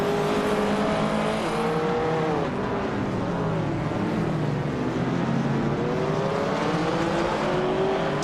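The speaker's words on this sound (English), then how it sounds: "We're just getting started with some amazing AI car races." Race cars in an AI-driven racing video game roar steadily, with several engines whining and shifting pitch as they rev and pass, forming a dense, continuous, loud mix with no talk.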